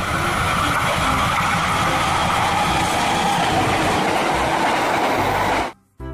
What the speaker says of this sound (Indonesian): Kereta api yang sangat panjang.